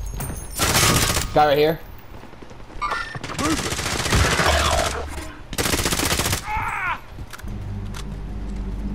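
Video game gunfire crackles in loud rapid bursts, with several separate volleys of automatic fire and single shots, while a player shouts excitedly over and between the shots.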